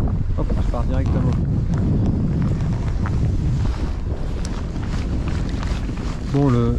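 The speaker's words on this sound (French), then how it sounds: "Bon, le vent forcé un peu." Strong wind buffets a microphone on a kayak during a sea fishing trip, a constant low roar with water sloshing beneath it; someone speaks over it briefly near the start and again at the end.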